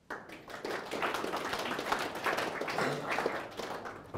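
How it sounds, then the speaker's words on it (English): Audience clapping in a conference hall as a leadership session opens, a dense, moderately loud patter of many hands that fills the whole stretch without speech. "A clap at the start, that's good."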